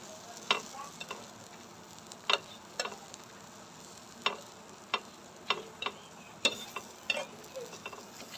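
Garlic, onion and chili frying in a pan, a soft steady sizzle broken by about a dozen sharp scraping stirs of a spatula at an even pace, close and alone.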